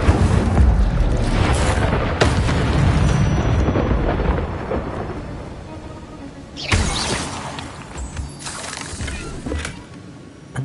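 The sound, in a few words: Incendio fire spell in Hogwarts Legacy video game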